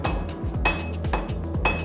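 Hammer blows ringing on hot forged metal resting on an anvil, about four sharp metallic strikes at an uneven rhythm, close and loud with no voices.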